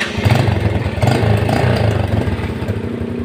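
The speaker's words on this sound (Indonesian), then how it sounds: "Coba kita starter lagi ya." An old Yamaha Vega R motorcycle, fitted with a new battery and rectifier but with a battery that drains and won't charge, fires up and revs nearby, its low rumbling throb swelling and easing in uneven pulses.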